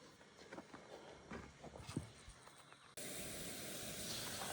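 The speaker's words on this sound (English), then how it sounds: "Now we got a nice sizzle going" Loud, steady broadband sizzle of food frying in a hot pan, starting abruptly after a few seconds of quieter clatter and faint sounds.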